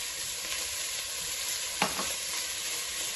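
Chicken fries with onions in a pot, giving a steady, close sizzle with a brief stirring scrape partway through. No voices are heard.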